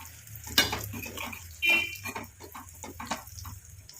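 Flowers being stirred and fried in oil make a soft sizzle with clinks and scrapes of a spoon against the pan, close and low in level, with no talk.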